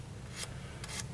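A hand file rasps across auto body material during body finishing, giving two short, faint scraping strokes separated by a brief pause.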